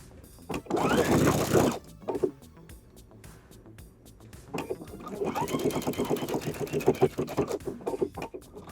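Sewing machine stitching binding on a round drawstring pouch, a loud close whir in a short burst near the start, then a longer steady stitching run after a pause.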